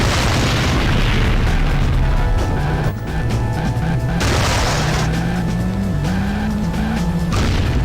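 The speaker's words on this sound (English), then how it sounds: "This cannon sucks." A cannon fires repeatedly in the PlayStation driving game Auto Destruct, giving loud booming blasts over a constant roar of car engines and tire noise. Brief pauses break the dense, continuous din.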